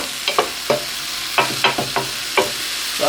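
Broccoli stirred around in a frying pan while it cooks, a few distinct scraping strokes over a steady sizzle, close and fairly loud with no voices.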